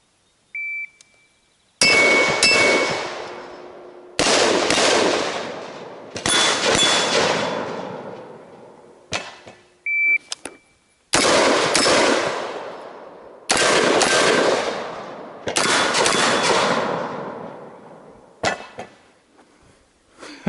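Rapid bursts of rifle fire from a 7.5-inch short-barreled rifle on a shooting drill, several loud close strings of shots with sharp steel-target clangs and timer beeps between them.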